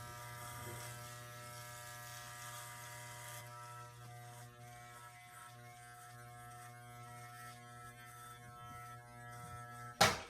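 Electric hair clippers buzz steadily and close up while cutting a hard taper line straight across during a self-administered taper fade haircut, a continuous motor hum lasting throughout with a sharp knock at the very end.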